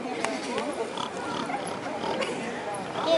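During a stage play, an actor imitates a pig with nasal oinks and grunts that are close and loud and mixed in with talking.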